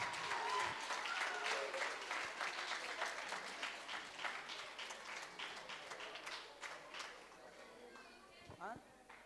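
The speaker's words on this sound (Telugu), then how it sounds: "చప్పట్లు కొడదాం బిగ్గరగా." A church congregation claps loudly in a fast, dense burst that gradually thins and fades toward the end, with voices faintly beneath.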